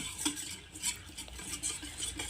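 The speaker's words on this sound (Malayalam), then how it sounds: "ഇനി ഇത് നന്നായിട്ടൊന്ന് മിക്സ് ചെയ്യാം" Batter with baking soda stirred in a bowl, repeated scraping strokes of a utensil at a steady rhythm, close and fairly faint with no talk.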